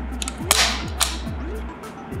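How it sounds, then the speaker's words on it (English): An HK M320 grenade launcher's heavy double-action trigger is pulled, giving two sharp, close clicks half a second apart over a low, wavering background hum. "It is a heavy trigger."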